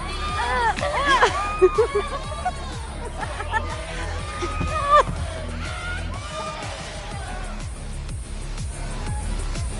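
A crowd at a concert in the video game Life is Strange Double Exposure, with busy hubbub, cheers and yells swelling over a steady thumping beat and music throughout.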